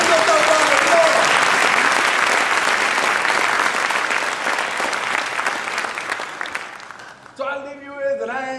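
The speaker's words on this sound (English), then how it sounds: "Give yourself a round of applause." Graduating class and audience at a high school commencement break into loud, sustained applause that gradually fades, giving way to a voice speaking over the last of the clapping.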